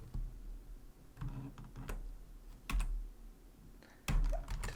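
Keys on a computer keyboard are pressed in scattered, uneven bursts of sharp clicks. They are close and quiet, with pauses between the clusters and no talking.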